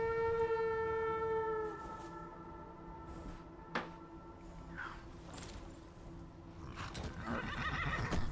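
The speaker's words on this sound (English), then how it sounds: "It's called Bultahn the horse" A horse in the video game Skyrim gives a long, high whinny, followed by quieter shuffling and thuds as the background noise builds again.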